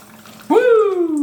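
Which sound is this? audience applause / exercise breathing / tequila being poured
tequila being poured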